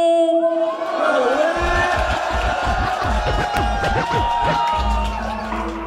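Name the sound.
crowd applauding and cheering at rap battle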